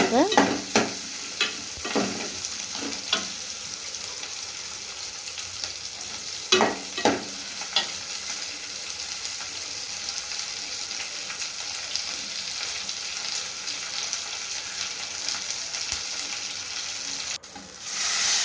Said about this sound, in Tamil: நல்லா வதக்கிக்கணும் ஃப்ரெண்ட்ஸ்